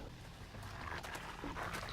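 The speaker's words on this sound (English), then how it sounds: "when you're getting chased by a dog" A hostile dog in the survival video game 7 Days To Die, growling and yelping in short bursts over a constant low game rumble, fairly close and faint overall.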